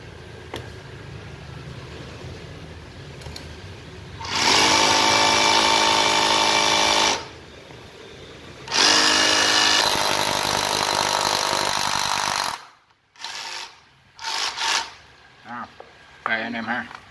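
Used Japanese cordless hammer drill tested in hammer mode, roaring in two loud bursts of a few seconds each, separated by quieter stretches, followed by short choppy trigger pulls, with someone talking between the runs.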